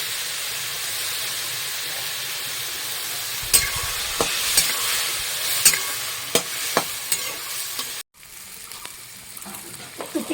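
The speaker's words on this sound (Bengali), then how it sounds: "আমি সুন্দর করে সব দিয়ে ভালো করে আগে নেড়ে নেবো" Onions, green chillies and spices fry in a pan with a constant soft sizzle, then a spoon stirs in a series of sharp scrapes and taps, with a brief cut before the frying resumes.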